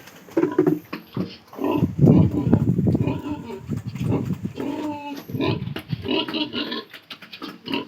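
A hungry pig named Tanggol eats on a farm, loud wet chomping, snorts and grunts close up, while people talk over the feeding noises.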